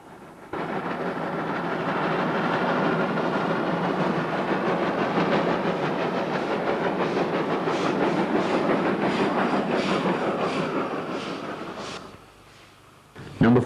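A South African steam locomotive built by Baie Peacock in the 1940s, with bar frames, Walschaerts valve gear and an extended spark-arrestor chimney, runs past, its steady rolling clatter and hiss loud and continuous before fading near the end.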